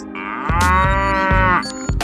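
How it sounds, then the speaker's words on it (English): A cow on a busy Mumbai street gives a long, loud, close moo that holds steady for about a second before trailing off, with faint street noise around it. "The cow in the middle of a busy street."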